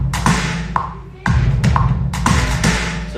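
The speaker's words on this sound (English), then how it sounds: "All right, drum beat." A programmed drum beat plays in a steady groove of punchy kicks and crisp snare or clap hits, loud and close, with a short gap near the start before the pattern resumes.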